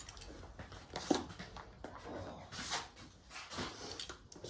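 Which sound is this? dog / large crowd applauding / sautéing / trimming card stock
dog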